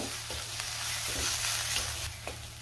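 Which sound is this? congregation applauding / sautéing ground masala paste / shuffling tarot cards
sautéing ground masala paste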